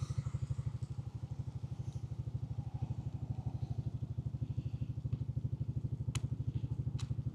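A Forza 250 scooter engine chugs in a steady, rapid rhythm of low pulses for several seconds without catching, with a few faint clicks near the end.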